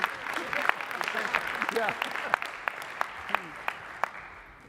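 A convention audience claps continuously at a British Columbia labour federation convention in 2018, with sharp individual claps over the crowd, and a voice briefly speaks near the end as the applause fades.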